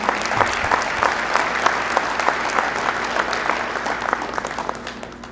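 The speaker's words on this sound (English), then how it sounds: "give them a round of applause." An audience at a presidential address claps warmly, a loud, continuous spatter of many hands with distinct individual claps, tapering off slightly toward the end.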